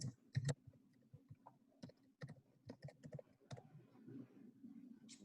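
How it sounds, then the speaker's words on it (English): Someone types on a computer keyboard in quick, irregular bursts of soft, close keystroke clicks, with short pauses between runs, in an otherwise quiet room. "I'm just typing in the chat for anyone that's wondering."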